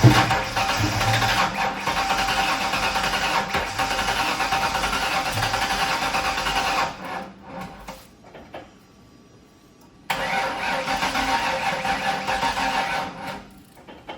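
A 331 stroker engine cranks and sputters with backfires while refusing to start, a loud steady grinding roar that cuts out for a few seconds of near quiet before cranking resumes; no talk.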